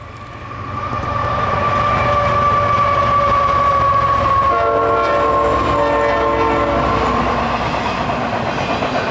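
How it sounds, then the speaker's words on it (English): A freight train loaded with shipping containers rolls past a cold-weather campsite, a loud sustained rumble with a long, droning horn-like tone, rising after the first second and staying strong to the end. "That's probably like the seventh train at this point."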